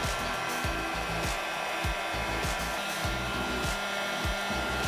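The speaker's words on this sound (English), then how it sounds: "this heat gun here is nice because you can stand it up on its back" A heat gun blows hot air over vinyl wrap on trim parts, a steady continuous roar of airflow with faint intermittent knocks and handling noises beneath it, close and loud.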